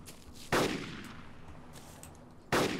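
Two loud, sharp gunshots about two seconds apart ring out in the DayZ Epoch mod, each booming with a short decaying tail over quiet background.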